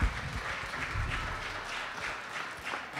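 Pentecostal church congregation applauding during a worship service, a dense, sustained round of clapping that swells and holds for several seconds with faint voices mixed underneath.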